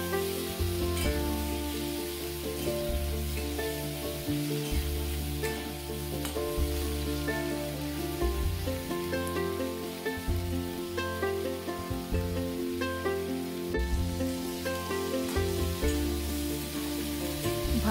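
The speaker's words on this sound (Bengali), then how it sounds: "সামান্য সর্ষের তেলে চিংড়ি মাছগুলো ভেজে নিলাম" Prawns fry lightly in a little mustard oil, giving a steady, close sizzle with dense crackle that runs without a break, plus occasional scrapes of stirring.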